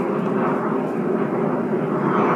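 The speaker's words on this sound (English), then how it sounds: "plane going overhead." A passing airplane flies overhead, a loud steady broadband engine roar that fills the short stretch without fading and with no talking over it.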